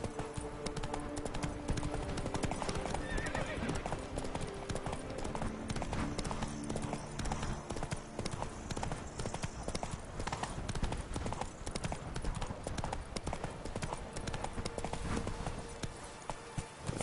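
Hooves of a horse clip-clopping in The Witcher 3 game, a fast, continuous galloping rhythm loud and close throughout, with brief whinnies and game sounds mixed in.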